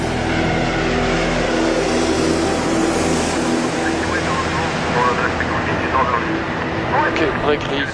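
An Airbus A380 airliner touches down during a flight test, a loud, continuous, broad roar of engines and rushing air, with voices talking over it.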